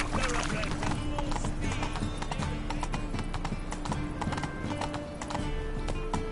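A thoroughbred horse gallops at full speed in a race in The Witcher 3: Wild Hunt, with rapid continuous hoofbeats and snorts under game music and a voice.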